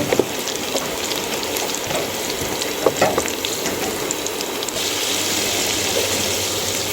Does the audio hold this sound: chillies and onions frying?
yes